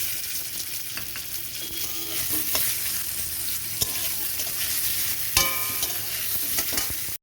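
Mango pieces fry with panch phoron and bay leaf in oil for chutney, a continuous close sizzle with scattered clinks and scrapes of stirring, ending in a brief knock.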